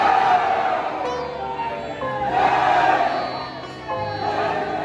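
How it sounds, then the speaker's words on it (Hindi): Devotees gathered at a goddess temple during Durga Puja in Munger, Bihar, chant praises together in swelling waves of crowd voices, loud and reverberant, rising and falling several times. "मंदिर प्रांगण माता के जयकारे से गूंजता रहता है।"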